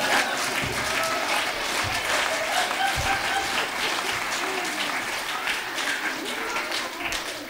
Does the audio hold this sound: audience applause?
yes